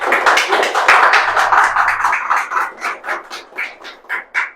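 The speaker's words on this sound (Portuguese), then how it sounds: "Dá uma salva de palmas para o Senhor" A church congregation claps during a worship service, starting as a loud mass of clapping that settles into slower, evenly spaced rhythmic claps.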